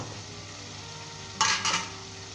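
Mutton roasting bhuna-style over a high flame keeps up a steady sizzle, and near the end a spoon stirs and scrapes the pan in two short bursts. No one speaks.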